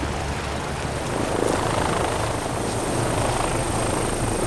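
A helicopter lifts off nearby, its dense rotor and engine roar filling the scene steadily and loudly with no voices.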